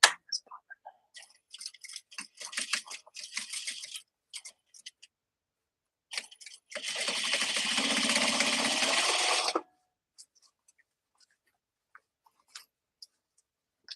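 A Juki sewing machine top stitching a bag runs in one steady, loud burst lasting a few seconds. Scattered soft handling noises and quiet whispery sounds come before it, and near silence follows.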